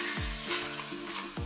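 A paratha pressed onto the inner wall of a very hot pressure cooker sizzles steadily, a dense close hiss with faint tapping and scraping underneath and no talk.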